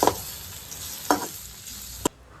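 A spoon stirring turmeric, coriander-cumin and chili powder into Kathiyawadi-style guvar (cluster bean) and potato curry frying in oil, with three sharp scrapes against the pan over a steady low sizzle.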